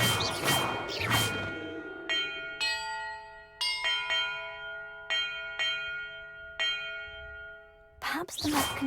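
Bells ring one after another in a bell-order puzzle in Hogwarts Legacy, each a clear chiming strike with a long ringing decay. Roughly ten strikes come in a loose rhythm, framed by short bursts of louder noise at the start and end.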